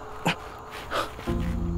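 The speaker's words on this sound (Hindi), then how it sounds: "कुछ पिल्ले, पार्वती कुछ पिल्ले, ऐसे ही पुकारना।" Puppies in a film scene give a couple of short high whimpers and yips, separated by pauses, followed by a steady tonal background hum.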